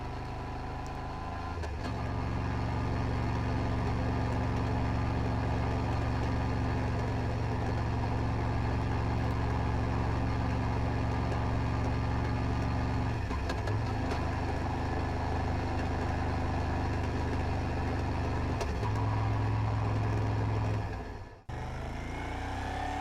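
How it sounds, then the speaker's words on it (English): Moto Guzzi Griso motorcycle at low revs, its engine a steady, fairly quiet low throb with faint gear changes and slight shifts in pitch, running continuously for about twenty seconds before cutting off abruptly, no speech. "The gearbox at low RPM sounds clanky, but goes into each gear with no hassle"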